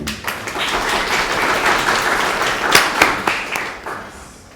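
A meetup audience applauds steadily for several seconds, a dense wash of clapping that swells slightly before tapering off.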